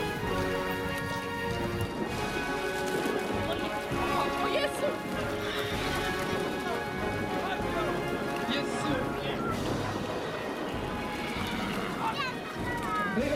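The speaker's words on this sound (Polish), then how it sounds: "jeszcze jeden koń widzę, pędzi, żeby wziąć udział w gonitwie" Horses at a Hubertus riding event race and neigh, whinnies rising over a steady bustle of crowd noise and children's voices across the whole stretch.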